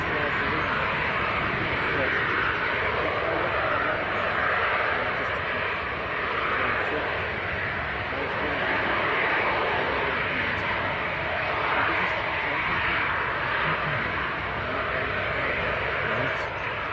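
Aircraft coming in to land at Leeds Bradford Airport after an orbit: a steady, broad engine roar sustained throughout, moderately loud and distant, with no talk in the clip.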